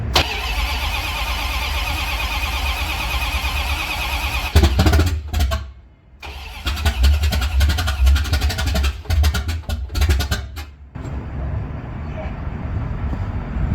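A Ramcharger engine with open Holley Hooker headers cranks and fires up loud and close, then dips and restarts into a raw, rumbling idle that roars unevenly before settling lower, with no muffling on the exhaust.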